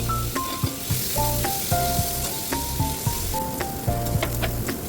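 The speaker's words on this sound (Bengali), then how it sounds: "সেটা গরম হয়ে এলে আমরা চিংড়ি মাছগুলো ছেড়ে কিন্তু এপার ওপার করে ভেজে নেব।" Prawns frying in mustard oil in a wok, a steady close sizzle with stirring clatter and a few sharp utensil knocks, with a faint melodic background tone throughout and no speech.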